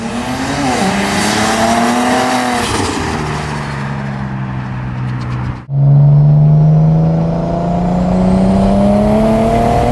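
Single-turbo BMW 335 engine revving hard and accelerating up through the gears, a loud, close, sustained roar with rising pitch sweeps, a brief drop at a shift, then building again without talk.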